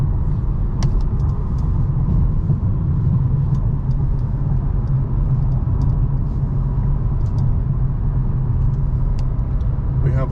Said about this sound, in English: Accelerate up to speed.